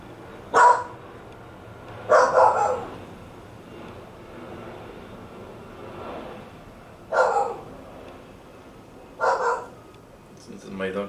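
Dogs bark indoors in five separate loud bursts of one or two barks each, spread several seconds apart, with quiet room noise and faint speech between them.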